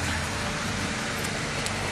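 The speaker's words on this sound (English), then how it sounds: "This is the first rain segment I've shot since I paved." Steady rain falls on freshly paved asphalt in late April in North Carolina near Asheville, a dense continuous hiss with an even, unbroken texture throughout.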